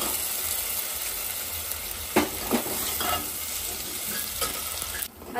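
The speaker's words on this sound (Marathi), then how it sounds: "आता हे जे वाटण टाकले ना मी ते आपल्याला चांगलं वाटणाला तेल सुटलं पाहिजे तोपर्यंत हे वाटण आपल्याला परतायचंय" Ground masala paste for chicken curry fries in hot oil in a pan, with a steady close sizzle and a few louder stirring scrapes and clinks, no talking.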